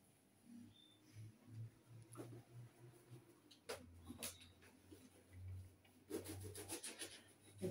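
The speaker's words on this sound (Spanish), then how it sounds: "Vamos a partirlos con el cuchillo de sierra." A serrated bread knife saws through large crusty bread rolls, giving faint, scratchy rasping strokes in short bursts, with a longer run of sawing near the end in a quiet kitchen.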